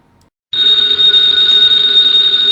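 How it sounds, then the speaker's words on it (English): An old-time radio drama's telephone bell rings continuously, loud and close, a bright sustained electric ring that starts abruptly after a brief quiet moment. "the ringing of that phone bell means mystery, adventure"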